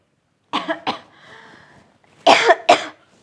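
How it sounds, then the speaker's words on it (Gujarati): Two quick coughs, a short pause with faint breathing, then two more louder coughs close to the listener. "આ વધારે બોલવાથી ઉધરસ પણ આવી જાય"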